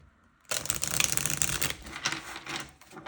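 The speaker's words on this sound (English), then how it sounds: "And I'm just going to shuffle one more time." Tarot cards being shuffled by hand, starting abruptly after a quiet moment and continuing as a dense, papery riffling flutter that rises and falls for a few seconds, close and clear.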